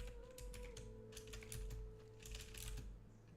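Rapid clicking keystrokes on a mechanical computer keyboard, close and fairly loud, arriving in irregular bursts over a steady low hum, with no voices.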